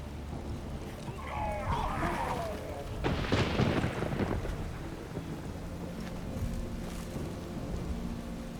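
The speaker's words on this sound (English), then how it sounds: "A magic explosion of some sort." A magic explosion in The Witcher 3 video game erupts as a broad, loud rumbling burst that rolls on with a thunder-like echo, following earlier swirling whooshes, with no voices over it.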